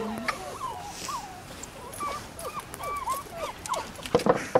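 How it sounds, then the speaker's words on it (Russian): A dog whimpers and yelps in a string of high, wavering cries over a steady background hiss, with a few sharper clicks near the end. "Очень шикарная собака."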